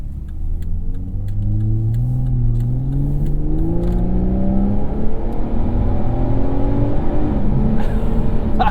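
A 2015.5 Volvo V60 T6 Polestar with its exhaust valves open pulls hard under acceleration, the engine note climbing steadily through the revs with a loud, aggressive exhaust drone heard from inside the car.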